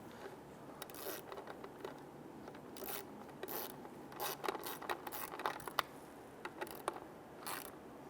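Ratchet clicks in short irregular bursts as bolts are snugged down on a fuel pump for a 1994-2004 Ford Mustang, close and fairly quiet, with faint rubbing and mechanical rattles between strokes.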